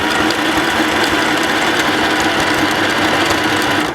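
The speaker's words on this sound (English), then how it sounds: "And you're stitching zigzag." A sewing machine runs a zigzag stitch on a T-shirt without pause, giving a loud, close, rapid mechanical whir and clatter.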